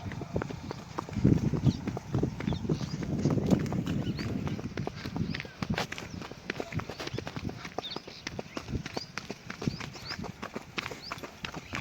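Horse hooves clip-clopping in a steady walking rhythm on a road, close and clear throughout, with a few brief bursts of background noise.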